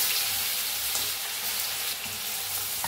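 Mustard seeds, cumin, asafoetida and ground garlic sizzle in hot oil in a pan, a steady dense crackling hiss that continues evenly throughout with no voices.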